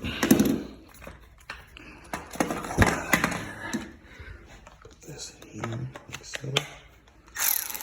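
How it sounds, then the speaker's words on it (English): A Milwaukee cordless power ratchet whirs in several short, close bursts, with someone talking around and between the runs. "you have your normal ratchet functions, just like a ratchet, forward, reverse"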